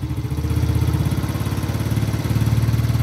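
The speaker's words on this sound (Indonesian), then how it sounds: "Ini jalur idle dibesarkan dulu." A motorcycle engine idles steadily up close while its idle is being adjusted, a loud rhythmic putter that dips briefly and then settles back.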